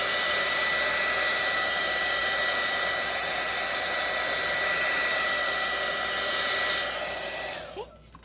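Hair dryer blowing steadily to dry a painted napkin journal page, a loud continuous whoosh that runs nearly the whole time before tapering off near the end with a faint click.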